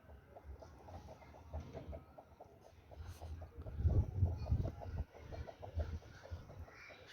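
Aseel rooster and a broody hen outdoors, with repeated close clucking in short bursts that grows louder in the middle and continues with rhythmic clucks to the end.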